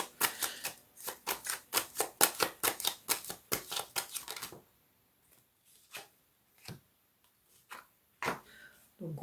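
Tarot cards shuffled and drawn for a reading: a rapid run of crisp, close papery clicks and snaps for several seconds, then a few scattered flicks and taps.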